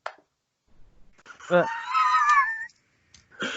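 A cat gives one drawn-out, wavering meow that rises and bends in pitch for about a second, close and clear, framed by brief softer sounds in an otherwise quiet space.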